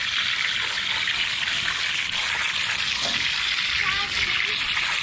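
Water sprayed to rinse cleaning product off a surface after it has set, a steady broadband hiss of running water that stays loud and continuous throughout.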